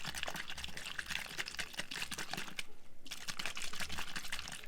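Glossy slime being mixed with borax, giving a steady run of wet, sticky squishing and clicking close up, with a brief quieter gap midway and no talking.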